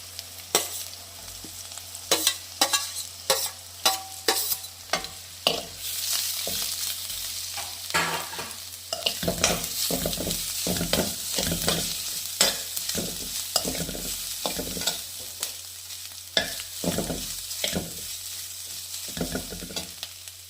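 Shallots and grated coconut sauté in a pan for a radish thoran, with a soft steady sizzle under repeated sharp scraping and stirring strokes from a spatula, close and fairly quiet.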